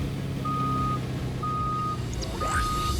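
Reversing beeps from a modern semi-truck in Fortnite: three evenly spaced electronic tones over a low engine rumble, with a brief whooshing sweep near the end.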